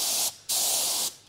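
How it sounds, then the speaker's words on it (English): A spray gun paints a DBA brake rotor hub for a Landcruiser 200 Series in two close, steady hissing bursts separated by a brief pause. "I'm spraying brake parts."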